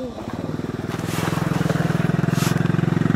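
Motorbike used to carry sacks idles close by with a throbbing, evenly pulsing engine that grows slightly stronger and steadier, with people talking over it.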